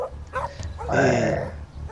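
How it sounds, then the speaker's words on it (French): Dogs barking and drawing closer during a French tabletop role-playing session, sharp yelping barks at mid distance mixed with people talking over them. "le chien qui aboie et qui s'approche aussi"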